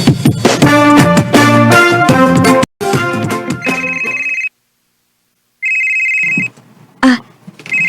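An incoming call rings on a phone as a loud melodic ringtone, playing in repeated bursts broken by silent gaps and ending in a few scattered tones.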